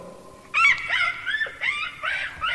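A dog whimpers and whines in a few high, wavering bursts, close by, with faint scuffling of scratching at a door between the cries.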